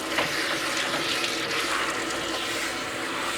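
Water runs steadily from a tub faucet while a Goldendoodle's coat is rinsed, a constant splashing rush that stays even and fairly loud throughout, alone without voices.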